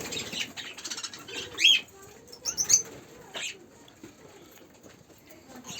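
Pigeons in a loft at an old bird-keeper's place, with wings flapping in a couple of bursts among soft rustling and cooing. Bird noises run throughout, and someone speaks faintly at times.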